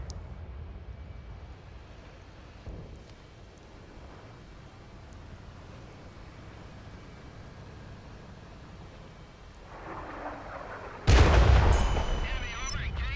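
Artillery fire in a tank video game, a heavy booming blast near the end after a long stretch of low rumbling battle ambience, followed by a ringing decay.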